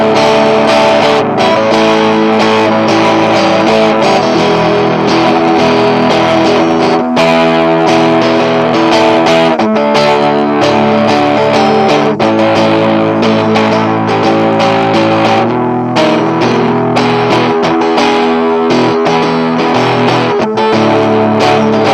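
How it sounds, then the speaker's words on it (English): Electric guitar played through a distortion effects unit with chorus, a loud, continuous indie-blues jam of gritty strummed chords and sustained notes filling the whole stretch, with no voices. "Another big dynamic to alternative music are effects, like a distortion box"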